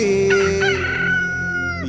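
A rooster crows once in a drawn-out, rising and falling call, loud and close, over a steady background hum during a Sankranti festival setting.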